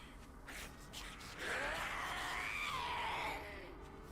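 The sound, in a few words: scream banshee zombies screaming in video game 7 Days to Die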